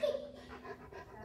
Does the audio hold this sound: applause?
no